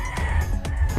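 Rhode Island Mahogany native chickens clucking in a free-range coop, a steady close chorus of low clucks and murmurs with a few sharper calls, loud and continuous.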